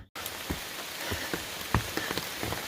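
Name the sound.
rain falling on umbrella on a hiking trail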